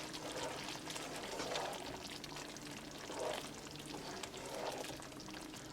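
Creamy egg and peas curry with fresh cilantro is stirred in a pan on the stove, a soft, quiet scraping and bubbling sizzle with faint swells as the spoon moves.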